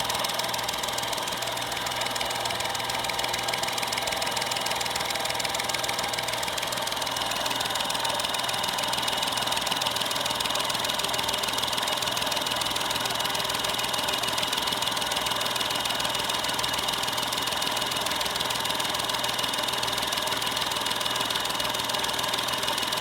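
An engine runs steadily at about 400 RPM, a continuous close mechanical drone with a rough, knocking idle texture that holds unchanged throughout, with no talking.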